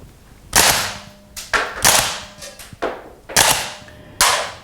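Rare Arms XR25 gas blowback airsoft shotgun fires five sharp, loud cracks at uneven intervals, each with a brief metallic rattle as steel shells eject, heard alone and close.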